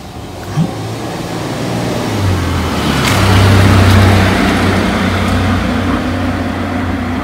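A car passes along a street beside a small concrete rose garden, its engine rising to a close, loud peak midway and then fading slightly, with steady background noise throughout.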